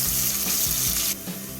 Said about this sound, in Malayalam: ഇനി നമ്മളിതിലേക്ക് ചേർത്ത് കൊടുക്കുന്നത് 1 സവാളയാണ്, ചെറുതായിട്ട് അരിഞ്ഞതാണ്. ഇനി ഇതൊന്ന് നന്നായിട്ട് ഇളക്കി കൊടുക്കും.